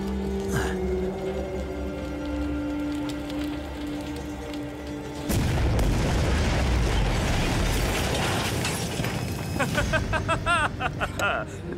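A sudden loud blast erupts midway, a broad roaring burst that lingers with crackling debris, preceded by tense rumbling and followed by scattered pops.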